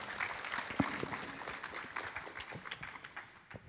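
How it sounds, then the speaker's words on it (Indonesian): An audience applauds at a panel session on financing Indonesia's way out of the climate crisis, with dense, steady clapping from a crowd that trails off gradually. "Mungkin boleh minta tepuk tangannya dulu."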